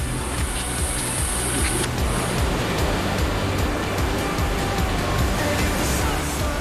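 A tropical rainforest waterfall in East Malaysia heard from the path behind the falling water, a loud, steady roar of pouring water with no breaks.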